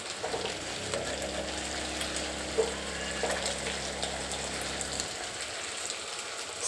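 Paya curry ingredients fry in a pan, a steady broadband sizzle and crackle running alone throughout, with a low hum under it that stops near the end.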